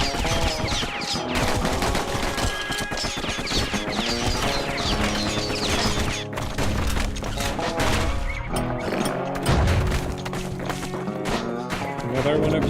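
Rapid gunfire from the Kid's guns in the video game Bastion rattles in quick bursts with impacts and crashes, set over a busy music soundtrack.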